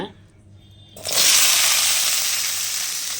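After a second of near quiet, shallots and garlic hit hot oil with a sudden loud sizzle that keeps crackling steadily.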